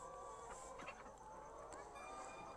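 Laying hens cluck inside a chicken house on a 1000-layer farm, a continuous chorus of many birds with scattered louder calls standing out over a steady barn din.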